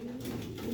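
A racing pigeon in a loft gives a short, soft, low coo, faint and brief against quiet background noise.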